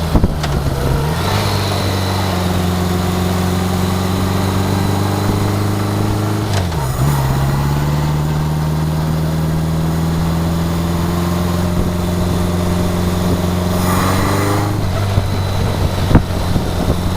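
Honda Goldwing motorcycle with a single-carburetor engine cruising at slow speed, a steady low droning hum that dips and recovers in pitch, heard close with constant wind rush over the microphone and no talk.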